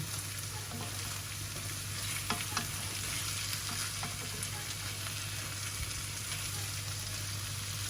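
Onions and shallots fry steadily in a pan, a dense continuous sizzle with a low hum beneath and a few brief clicks of stirring, close and alone without talk.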